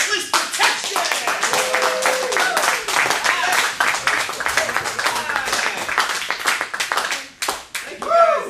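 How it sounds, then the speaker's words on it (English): Audience at a comedy club show claps and cheers loudly and steadily for several seconds, with some shouts and voices mixed into the dense applause before it tapers near the end. "put your hands together with thunderous applause for Witless Protection!"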